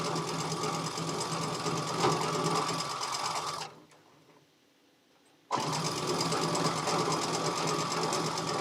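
A sewing machine stitching long straight lines on a Christmas table runner runs in a fast, even mechanical whir. It stops briefly for about two seconds, then starts again at the same steady pace.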